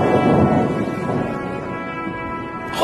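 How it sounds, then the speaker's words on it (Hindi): The first rain of the season falls with thunder: a loud, deep rolling rumble over a steady hiss of rainfall, with no voices. "पहली बारिश की बूंदें इन्हें भी भाती हैं।"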